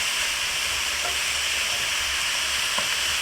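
Vegetables stir-frying over high heat for fried rice give off a steady, dense sizzling hiss that runs unbroken throughout, with no voices.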